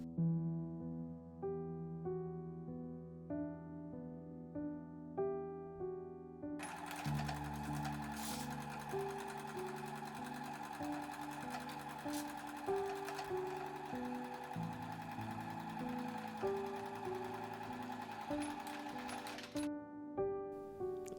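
A sewing machine stitches fabric crown pieces of a reversible sun hat together in a steady fast rhythm, close and clear, first with soft music alone and then the machine running over the music.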